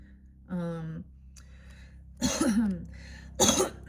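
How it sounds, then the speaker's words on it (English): Someone hums briefly, then clears their throat twice with rough, forceful bursts, close and fairly loud against a quiet background. "Let me clear my throat."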